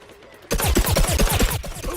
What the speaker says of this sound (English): Now the Agent P has a suppressed, silenced pea cannon